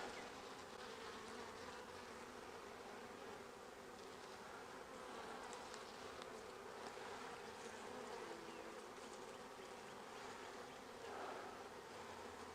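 Dense, steady buzzing of honey bees crowding brood frames during a hive split, a continuous close drone of many wings with no voices.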